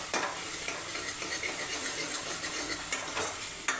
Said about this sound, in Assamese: এইখিনি মই ভালকৈ লৰাই ল'ম।